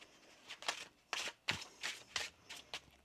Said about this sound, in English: One more shuffle here, please